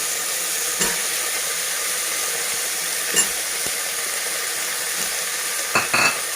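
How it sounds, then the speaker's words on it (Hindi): French beans and potatoes frying in a pan, a steady broad sizzle with a few brief stirring scrapes and clinks, close and continuous with no talking. "अब सिमी डालने के बाद हम इसको अच्छे से भूनेंगे।"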